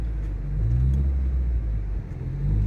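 Car engine idling and pulling in first gear during a parking maneuver, a low steady rumble with slight swells as the car creeps, heard from inside with no talk.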